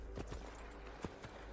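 Horse hooves clip-clop in Assassin's Creed II, a quiet run of separate hoof strikes at a walking pace with no talk over them.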